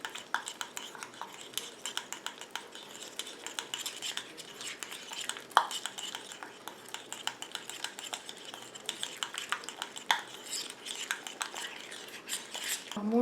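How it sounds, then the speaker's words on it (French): A homemade face cleansing gel with drops of vitamin E being mixed in a small container, giving quiet, rapid clicking and scraping taps of a utensil against the sides in a steady, close rhythm. "Et je rajoute mes 3 gouttes de vitamine E. Je mélange à nouveau."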